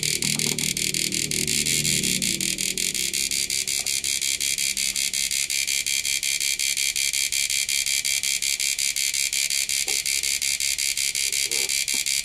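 A Samus electronic fish stunner, switched on and left running, gives off a steady, loud electrical buzz with a bright high whine. It holds unbroken throughout, with a little low rumble early on.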